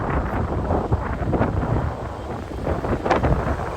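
Strong wind near a fast-flowing river below a bridge hits the microphone in loud, buffeting gusts, a rough roar that swells and dips throughout.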